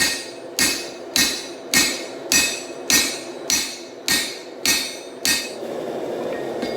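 A hammer drives a drift into the eye of a forged Dane axe, landing about nine sharp, evenly spaced metallic blows, each ringing briefly, before a quieter steady hiss closes the passage.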